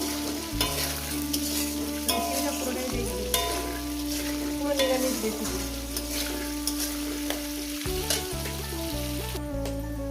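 Taro, potato and other vegetables frying with salt in a pan for a vegetarian five-vegetable chorchori, a steady sizzle with stirring scrapes, set under continuous background music.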